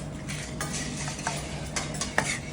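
A cornstarch mixture for Thai mango sticky rice is stirred in a pot before heating, with continuous scraping and light clinks of a utensil against the rim, close and moderately loud.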